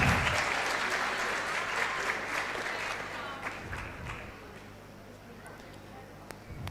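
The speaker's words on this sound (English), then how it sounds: "A big round of applause, everyone." An audience claps at a university law valedictory award function, the applause starting full and bright, then gradually fading to scattered claps near the end.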